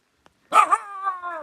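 A single dog bark or yelp, short and fairly close, with a faint tick just before it and nothing else around it.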